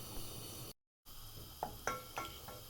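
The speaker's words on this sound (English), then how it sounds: "I'm just melting up some of this butter" A pan of butter melting on high heat is stirred, giving a few soft scrapes and light clinks of a utensil against the pan over a low background hiss, with a brief gap of silence early on.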